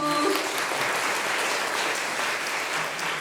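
Applause from a church women's fellowship gathering fills the room with steady, dense clapping that holds at an even level for the whole stretch, with no talking.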